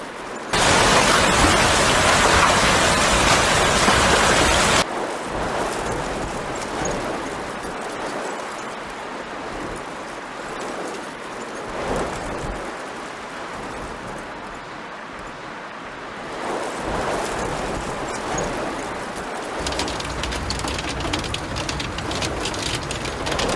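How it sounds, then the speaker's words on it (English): Heavy rain pours down in a constant roaring hiss, especially loud and dense at first, then continuing steadily as a broad wash of drumming. "storms and heavy rain caused flash flooding with culverts and dry ground unable to cope with a sudden downpour"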